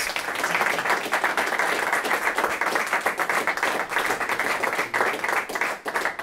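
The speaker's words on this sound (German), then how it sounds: "Ihr Applaus" A studio audience applauds at a televised talk show for a former professional sailor, world champion and sailing league director, sustained dense clapping at an even level throughout.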